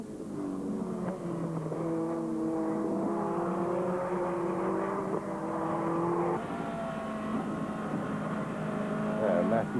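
Race cars circling a British motor racing circuit in 1997, several engines droning and shifting pitch as they pass at moderate distance, one car closing in near the end, heard under a commentator's continuous talk.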